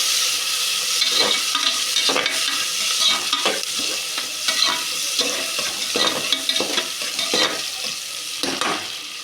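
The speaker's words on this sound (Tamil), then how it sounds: "வெங்காயம் நல்லா வணங்கி வரட்டும்" Onions sauté in a pan for paruppu sadam, a loud, continuous sizzle with frequent rhythmic scraping stirs of a spatula close up, no speech.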